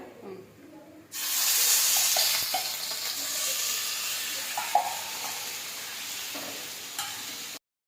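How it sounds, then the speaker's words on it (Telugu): Chicken pieces hit hot oil for a spicy chicken pickle, bursting into a loud, steady sizzle and hiss after a quiet start, with faint clinks of stirring throughout. "కొద్దిగా ఆయిల్ వేసుకోవాలండి. తర్వాత ఆయిల్ కాగిన తర్వాత చికెన్ వేసుకోవాలి."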